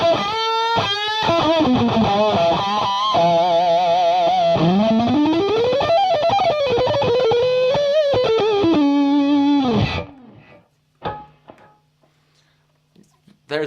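An electric guitar through a Strymon Sunset overdrive pedal with germanium and two-stage sides combined plays a fuzzy, distorted riff with sliding bends for about ten seconds, then cuts to near silence with a few faint stray noises.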